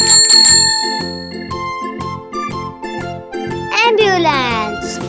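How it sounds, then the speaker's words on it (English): A bicycle bell rings in a quick bright burst at the start, then a cheerful bouncy music backing takes over, with a short playful voice-like sound effect near the end. "Bicycle."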